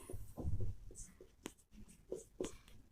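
Chalk or marker strokes on a board during a maths lesson, a handful of short scratchy taps and squeaks spaced irregularly at close range, with faint background noise.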